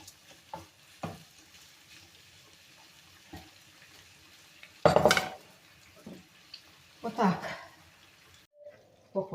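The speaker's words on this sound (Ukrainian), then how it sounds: "Щоб воно трошки підсмажилось." Food fries in a pan on full gas with a quiet sizzle under intermittent stirring, scraping and clinks of a utensil against the cookware, several louder clatters standing out.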